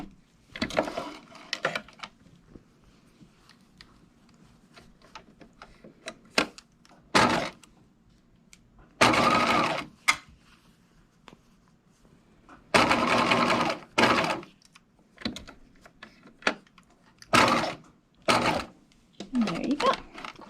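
A sewing machine bastes lace loops in place on a lace face mask, running in several short, sharp bursts of rapid stitching separated by quiet pauses.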